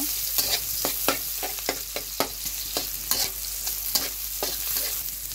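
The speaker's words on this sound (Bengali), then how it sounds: "এখন হচ্ছে তেলের মধ্যে পেঁয়াজ কুচি রসুন কুচি দিয়ে দিলাম। এখন একটু ভেজে নিব।" Chopped onion and garlic frying in oil, a steady close sizzle broken by repeated sharp scraping strokes of a spoon stirring the pan, with no talking.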